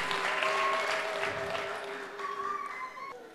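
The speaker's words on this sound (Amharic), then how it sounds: "ለጌታ ለልታ ጭብጨባ ይሁን" Church congregation applause in praise, a broad wash of clapping that swells early and slowly fades while a sustained electronic keyboard tone holds beneath it and shifts pitch near the end.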